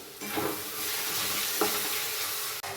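Spiced chicken with salt and turmeric being sautéed in a pan, a steady close sizzle with scraping stirs and a couple of spoon knocks against the pan.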